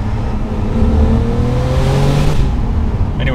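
A RUF Porsche 993 Turbo pulls hard under acceleration as the turbo comes in, a loud continuous engine roar with rising pitch heard close, ending in a brief whoosh.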